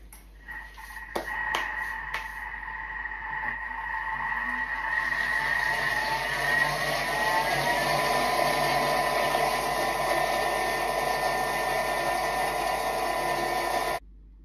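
A food processor runs at speed 5, blending pumpkin, chocolate and tiramisu ingredients in a steady, loud whirring drone for about thirteen seconds after a few clicks and knocks, then stops abruptly.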